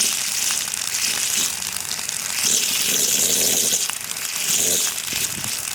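Water and air blow out of a newly opened water line in a continuous hissing, sputtering gush that surges and eases over several seconds, loud and close with no talk.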